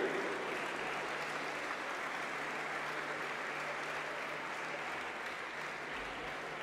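Audience at a senior xistera final in the Basque country applauds the evening's winners, a steady, moderately distant patter of clapping that holds evenly for several seconds in a large hall, with a low hum beneath.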